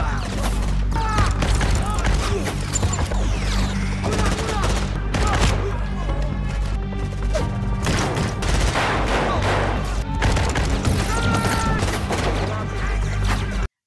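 Gunfire rings out in an action film, with rapid shots and bursts of firing mixed with impacts and crashes over a booming music bed, loud and dense throughout, with a voice talking over parts of it.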